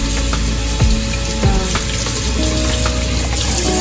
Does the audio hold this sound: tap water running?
yes